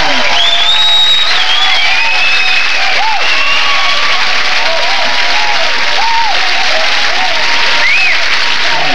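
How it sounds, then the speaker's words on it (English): Audience applause for a comedian on a 1981 televised stand-up comedy show: loud, dense clapping from a large crowd, sustained without a break and heard up close. "Let's give him a big applause."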